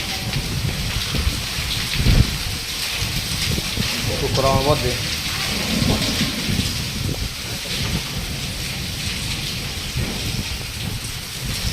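Heavy rain pours down steadily during a thunderstorm with strong winds and hail, a dense wash of rainfall throughout with a low rumble near the start, while people talk over it.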